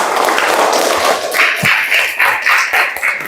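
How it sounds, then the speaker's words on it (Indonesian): A group claps together in a classroom-style setting, a few short bursts of applause with rhythmic patting, fairly close and loud, with no talking over it. "Tepuk tangan dulu buat kita semua."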